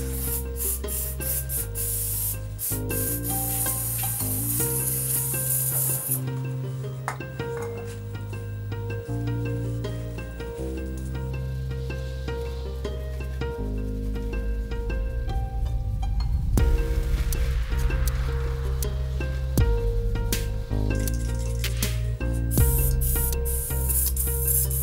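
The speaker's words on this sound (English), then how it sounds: "I use a bit more chain cleaner and then wipe it with a rag again." Chain cleaner hisses from an aerosol can in long bursts onto a motorbike chain, loud and close, with brief pauses between sprays.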